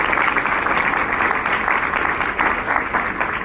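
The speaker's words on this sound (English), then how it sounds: "Let's give Ted a round of applause" Steady round of audience applause at a college forum, many hands clapping in a dense, even wash that stays loud throughout with no talk over it.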